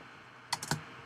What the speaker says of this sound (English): So double tap spacebar to fly.